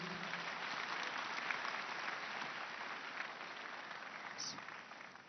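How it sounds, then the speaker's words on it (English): Audience applause fills a church service, steady dense clapping from a crowd for about five seconds with no voices over it, tapering slightly at the end. "let us clap for Jesus."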